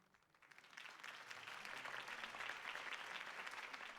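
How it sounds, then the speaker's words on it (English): Applause from a crowd swells up from quiet and holds steady, many hands clapping at a moderate distance, in the Batman: The Telltale Series video game. "could have heard that applause"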